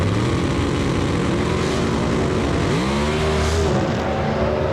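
Drag race cars with Chevrolet and Ford engines roar loudly and continuously at a Competition Eliminator event in Dallas at Pine Valley, with engines revving and droning close by and one car easing off the throttle partway through.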